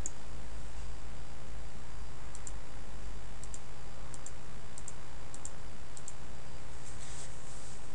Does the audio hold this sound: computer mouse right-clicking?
yes